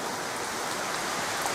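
Heavy rain hammering down outside onto a garden, a dense, continuous hiss of steady downpour with no pauses and no voices.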